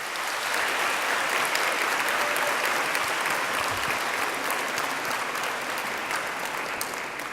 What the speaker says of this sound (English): please join me in a round of applause to thank all those who have helped you